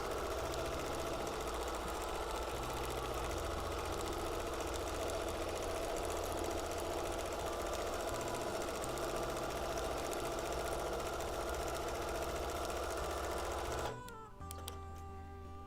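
A sewing machine named Stella runs steadily for about fourteen seconds of ruler-work free motion quilting on a custom quilt, a close, continuous mechanical hum and rapid stitching rhythm, then stops abruptly near the end.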